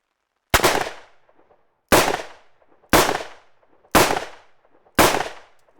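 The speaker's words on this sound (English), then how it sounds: "Let's continue with the .357 Magnum revolver, an exceptionally powerful handgun." A .357 Magnum revolver fired at a body armour vest, five loud, sharp shots spaced about a second apart, each with a short ringing decay, and no talking.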